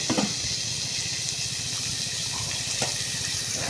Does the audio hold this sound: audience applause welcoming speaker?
no